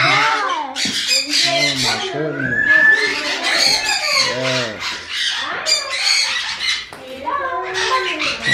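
Pet parrots squawk and screech in a home setting, loud, harsh calls repeating in quick bursts close by.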